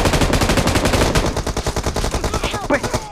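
Rapid automatic gunfire in the mobile game PUBG Mobile rattles in fast, loud bursts, dense at first and then breaking into spaced shots, with a player's voice faintly mixed in.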